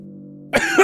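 A person coughs up water in a harsh, wet, sputtering burst that breaks in suddenly after a low steady hum and continues to the end.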